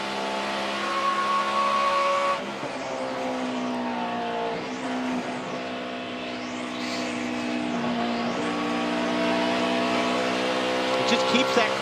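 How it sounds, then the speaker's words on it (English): Race car engine at the 2011 5-Hour Energy 500 NASCAR race, held at high RPM in fourth gear, a sustained buzzing whine with slowly shifting pitch, heard under a commentator's voice. "Just keeps that car up on the RPMs."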